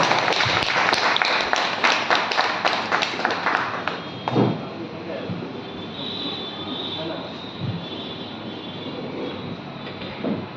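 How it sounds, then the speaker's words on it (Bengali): An audience at a book release function bursts into loud, dense applause that lasts about four seconds, then fades to room murmur with scattered voices. "আর একবার একটু জোরে হাততালি"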